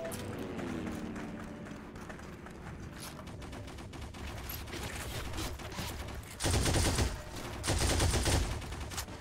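Rapid bursts of gunfire in the Heroes & Generals World War II sniper game, a sniper rifle among them, with repeated sharp shots throughout and louder, denser volleys near the end.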